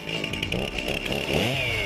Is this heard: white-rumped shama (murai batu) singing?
no